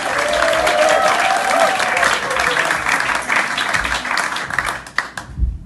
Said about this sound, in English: let's fill this room with applause again, please, and have some cheering